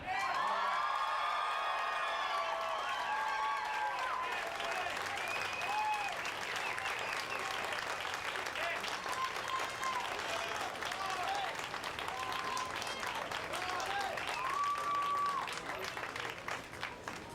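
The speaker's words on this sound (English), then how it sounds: "will you please let your applause signify your approval of a star on the Hollywood Walk of Fame for Johnny Depp" A large outdoor crowd at a Hollywood Walk of Fame star ceremony for Johnny Depp applauds continuously and loudly, with scattered cheers and whoops rising above the sustained clapping.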